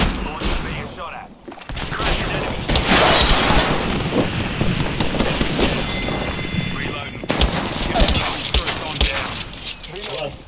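Apex Legends gunfire, a steady barrage of shots and booming impacts rattling throughout, mixed with game voice lines and other chatter.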